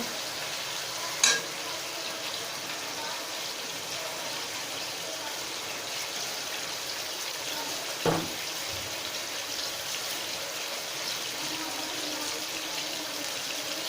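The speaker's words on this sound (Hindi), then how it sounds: "मैंने इसके अंदर अदरक लहसुन का पेस्ट शामिल कर दिया है। अब मैं इसकी हल्की सी भुनाई कर लूँगी।" Chicken karahi frying with ginger garlic paste in a pan, a steady close hiss of sizzling with a couple of sharp clinks of a utensil, no talk.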